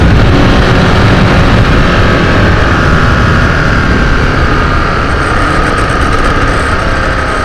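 A Ducati 1098 sportbike on a canyon road, its engine running loud and steady with broadband wind and road roar throughout, close and continuous with no talk.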